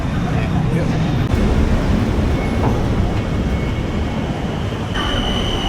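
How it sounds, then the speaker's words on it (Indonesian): Train pulling into a station platform in Thailand during rush hour, a loud rumbling roll of railcars with clattering wheels and a brief metallic squeal near the end. "Oke, keretanya udah nyampe, tapi kayaknya bakal rame karena jam kerja"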